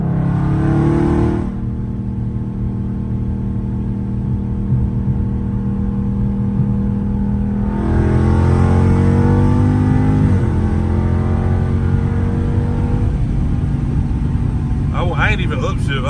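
A Scat Pack muscle car engine rumbles and revs steadily while driving on country roads, its low drone rising in pitch midway as the automatic upshifts, with a brief higher whine near the end.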